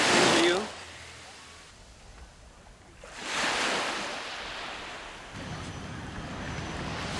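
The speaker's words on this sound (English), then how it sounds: "Isn't the ocean so beautiful?" Ocean surf rolls in and recedes in broad swells, rising loud at the start and again midway before settling into a steady hiss, with wind buffeting the microphone.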